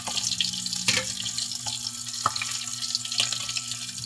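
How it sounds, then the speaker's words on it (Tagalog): Tap water runs steadily into a kitchen sink during breakfast cooking of paksiw, a continuous wash of flow with a few small clinks and drips, no talking. "Ito yung tubig."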